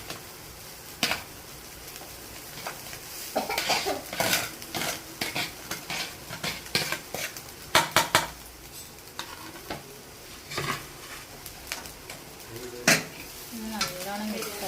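A spatula scrapes and clatters against a pan while cooked rice and softened vegetables are stirred together for fried rice, irregular metallic knocks over a faint sizzle.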